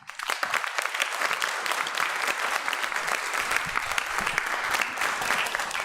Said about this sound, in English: Give a round of applause for our panelists and the facilitator today.